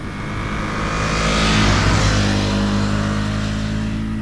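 A Ducati Monster motorcycle engine hums steadily and loud, swelling as it pulls through a long gear on an open road, with a continuous smooth drone and no talk.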